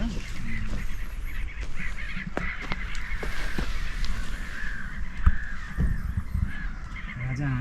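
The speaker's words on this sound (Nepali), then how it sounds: "राजा हाँस सुन्दैछु।" Water birds honk and call repeatedly at a park in Paris, with loud, overlapping honks and caws nearby over outdoor background noise, while people talk at times.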